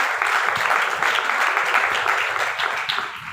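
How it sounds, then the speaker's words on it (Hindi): A church congregation at a Sunday service claps loudly and continuously for several seconds, a dense sustained wash of applause with no talking. "जरा ताली बजाओ अपने लिए जोर"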